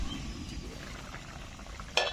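Rohu fish curry simmers and fries in a covered pan with a soft, bubbling sizzle, broken near the end by a short, bright metallic clink of the lid or a utensil.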